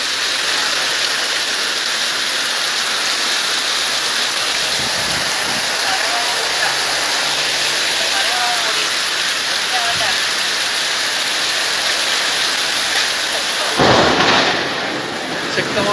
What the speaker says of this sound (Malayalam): ഇടിമിന്നലൊപ്പം വീശിയടിക്കുന്ന കാറ്റും ഇടിവെട്ട് മഴയാണ്